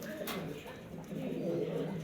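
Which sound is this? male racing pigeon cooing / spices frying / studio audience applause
male racing pigeon cooing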